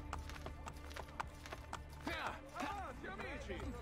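Horse hooves clop in the video game Assassin's Creed Brotherhood, a steady rhythmic gallop followed by whinnying calls, with someone talking over it in Italian.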